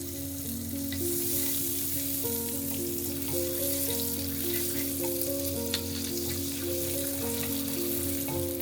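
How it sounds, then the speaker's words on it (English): Salt and butter melt in a pan while being stirred, a continuous soft sizzle with light crackles and occasional utensil ticks under background music. "Stir until it's all melted together."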